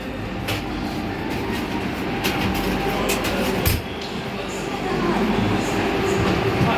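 Air-conditioned passenger train rolling along with steady rumbling and rattling, faint clicks from the wheels and occasional sharp knocks inside the carriage; a voice speaks briefly over the noise.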